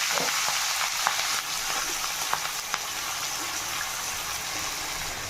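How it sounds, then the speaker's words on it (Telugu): Onion and green chilli pieces frying with spices in oil for a drumstick and tomato curry, a dense hissing sizzle with a few light spoon clicks early on, close and steady, no speech. "ఇది కొంచెం ఫ్రై అయిన తర్వాత మనం కట్ చేసి పెట్టుకున్న ఉల్లిపాయ ముక్కల్ని పచ్చిమిరపకాయ ముక్కల్ని కూడా వేసుకోవాలి"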